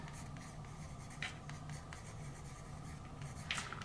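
A pen writes on paper during a watercolour lesson, producing faint scratchy strokes in short irregular bursts close to the microphone, with no talk.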